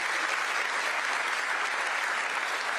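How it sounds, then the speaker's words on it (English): Dense, steady applause from a crowd, loud and continuous for a few seconds with no voices. "give them a round of applause"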